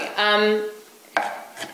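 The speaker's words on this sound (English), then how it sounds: "quickly do a little chopping like that" A knife chopping garlic on a board gives two sharp, isolated taps after a brief vocal sound at the start, close and fairly quiet.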